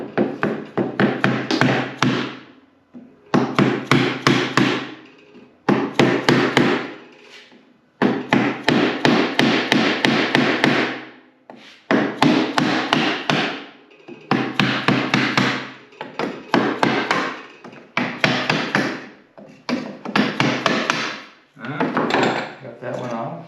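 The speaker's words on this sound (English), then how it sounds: "this may take a little coaxing with a chisel" A hammer strikes a chisel in rapid bursts of sharp, loud wooden taps to pry a part off an old roll top desk, the blows coming in repeated clusters with brief pauses between.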